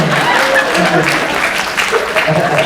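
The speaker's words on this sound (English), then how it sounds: "You would applaud that" Applause from an audience at a fan convention panel, a loud, close, continuous patter of clapping with a little crowd murmur and laughter mixed in.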